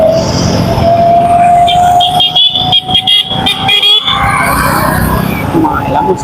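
An electric car sounds its horn, a sustained, fairly loud tone over close vehicle and background noise, broken up midway by a few brief dropouts.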